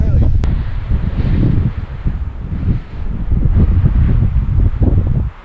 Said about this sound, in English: the wind, it just like cuts through you